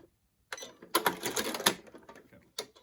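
A short run of a sewing machine stitching a fabric face mask, a quick burst of needle clatter after a silent start, faint with a softer tap near the end.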